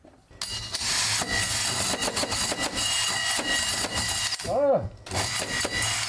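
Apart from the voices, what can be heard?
drilling holes in wood for wires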